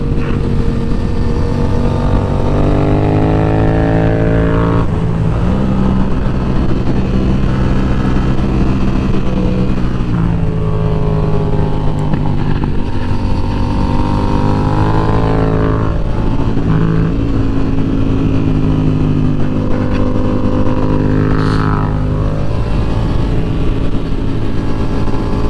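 A sport motorcycle ridden hard on a race track in cold weather, its engine loud and steady and rising and falling in pitch through repeated upshifts and accelerations over the whole run.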